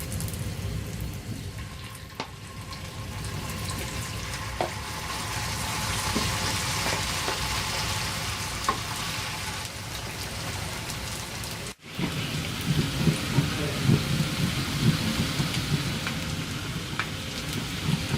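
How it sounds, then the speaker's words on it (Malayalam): Cauliflower for Gobi Manchurian deep-frying in hot oil, a dense steady crackling sizzle like rain that briefly dips then resumes louder with sharper pops, close and without talk. "അപ്പം നമുക്കിനി നമ്മുടെ ആദ്യത്തെ ബാച്ച് കോളിഫ്ലവർ ഇതിലേക്കിട്ട് വറുത്തെടുക്കാം"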